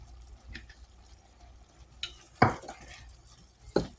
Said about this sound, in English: You get at a good old stir.